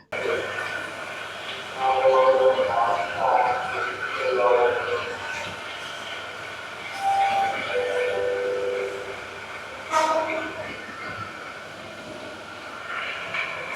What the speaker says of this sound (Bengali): ট্রেনের জন্য কিন্তু আমাদেরকে খুব একটা ওয়েট করতে হয়নি যেহেতু ট্রেন প্ল্যাটফর্মেই ছিল